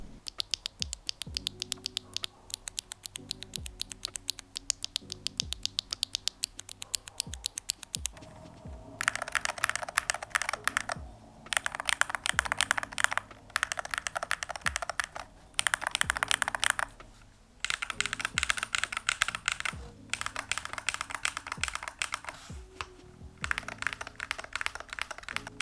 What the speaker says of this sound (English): Now I do have some extra void switches to give you a comparison with the Otemu T switches.